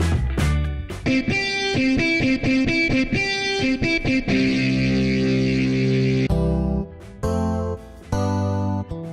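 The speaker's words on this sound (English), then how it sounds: "AeroGuitar has authentic guitar sounds." An AeroGuitar, an electronic guitar, plays a loud, distorted run of repeated chords and notes through chorus and echo effects, with a sustained passage midway and choppy strums at the end, with no talking.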